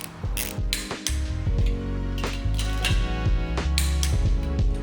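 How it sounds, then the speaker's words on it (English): A torque wrench from King Chrome ratchets in repeated sharp clicking bursts during a Subaru WRX engine build with an LS engine, loud and close with no talking. "That's a nice looking torque wrench you got there."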